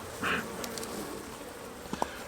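Honey bees buzz faintly around an open hive during an inspection, with a short nearer drone early on and a few light taps and handling noises later, soft and close.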